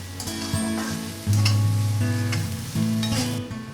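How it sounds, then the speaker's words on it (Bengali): Onions frying in a pan for Bengali ghugni, stirred continuously, giving a steady loud sizzle with rhythmic scraping strokes and faint clinks of the spatula. "পেঁয়াজ অনবরত নেড়েচেড়ে 9-10 মিনিট ভাজতে হবে।"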